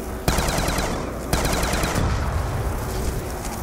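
Rapid automatic fire from an upgraded RPD machine gun in a zombies shooter game, a sustained loud rattling burst with sharp onsets, continuing steadily for several seconds.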